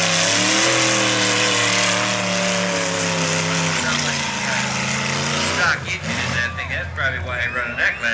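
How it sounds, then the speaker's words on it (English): A GMC pickup truck engine at a mud bog revs and drones steadily with strong low harmonics, then shifts pitch and turns rougher near the end, with some voices mixed in. "Nice bass, Russell. Truck sounds good."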